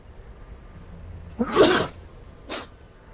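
One loud close sneeze from a person during an indoor live stream, followed by a softer breathy exhale a second later.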